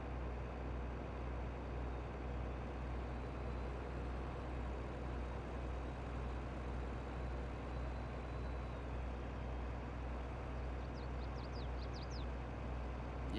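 Truck engine in the farming video game Farming Simulator 22, a steady low drone that stays even throughout, with a short cluster of faint high chirps near the end.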